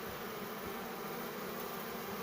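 Steady, dense buzzing of many honeybees from a stray swarm being hived, a continuous close hum with no pauses and no voices.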